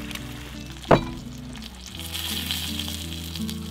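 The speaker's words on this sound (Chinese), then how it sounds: "主要是一些牛排、鸡蛋以及面包，放在平底锅里煎熟即可" Steak, eggs and bread fry in a flat pan at a forest campsite, giving a continuous close sizzle with one sharp clink early on, no one talking.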